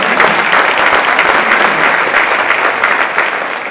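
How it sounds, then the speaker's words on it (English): Sustained audience applause at a school district State of the District address in San Antonio, a dense, steady wash of clapping from a large crowd throughout, loud and even without pause. "Let's give her a round of applause."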